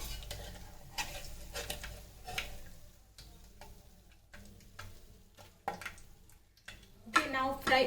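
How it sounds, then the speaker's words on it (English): Paneer cubes fry in oil inside an electric kettle, with soft sizzling broken by irregular clinks and taps of a utensil against the pot, quiet and close, while a person talks intermittently. "now fry all the paneer cubes in same manner"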